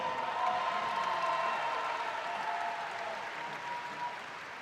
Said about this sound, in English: let's have another round of applause for our athletes.